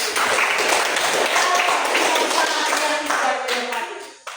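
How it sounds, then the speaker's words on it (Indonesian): A classroom of students claps together, loud and close, with voices mixed in before the clapping fades at the end. "Tepuk tangan."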